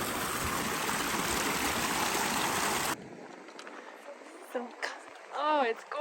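Glacier-fed mountain stream rushes as a steady broadband wash for about three seconds, then cuts away to quieter outdoor ambience where people speak and exclaim.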